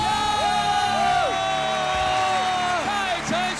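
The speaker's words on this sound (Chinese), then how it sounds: "好多欢呼声" Studio audience on a Taiwanese variety TV show cheering and whooping as a weekly champion is announced, a steady loud wall of crowd noise with music running underneath throughout.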